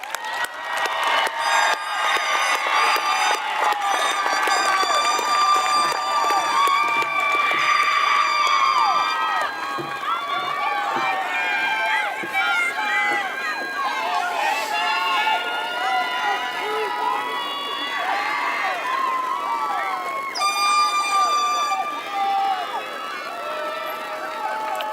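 At a high school graduation, a crowd cheers, whoops and shouts while clapping for graduates, a loud, sustained roar with piercing cries and whistles rising and falling over about twenty-five seconds.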